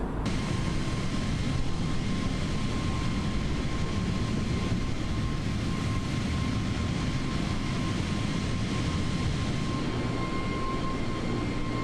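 An Airbus A320neo's jet engines drone steadily while cruising in Microsoft Flight Simulator, a constant broadband roar with a faint whine running through it, unbroken and with no talking.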